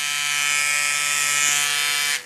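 A Hummingbird-style rotary tattoo machine with a roughly 3.5 mm stroke, bogging under load, gives a steady close electric buzz with a bright whine for about two seconds before cutting off abruptly.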